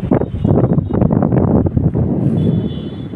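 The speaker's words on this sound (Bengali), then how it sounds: "সুন্দর মৃদুমন্দ বাতাস প্রবাহিত হচ্ছে।" A breeze blows at the Manda concrete bridge over a river in Naogaon on a sunny winter morning, heard as a loud, continuous low buffeting rush of wind against the microphone.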